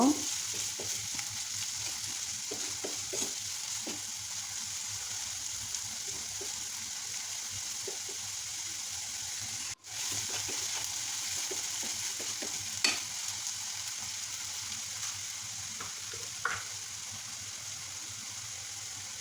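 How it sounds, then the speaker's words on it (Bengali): Chopped onions with salt fry steadily in a pan, a continuous close sizzle with occasional stirring scrapes and clicks, no voices. "এখন এই পেঁয়াজকে ভালো করে ভেজে নিব।"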